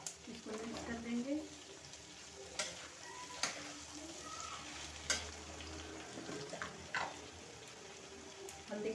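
Garlic and ginger paste frying in a pan for a mixed vegetable dish, a steady close sizzle broken by occasional scraping strokes of a spoon stirring through it.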